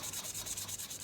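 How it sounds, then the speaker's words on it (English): Steady sanding of a saxophone mouthpiece surface, a close, even scratchy rubbing in a quick repeating back-and-forth rhythm, heard alone without voices. "sanding this like so"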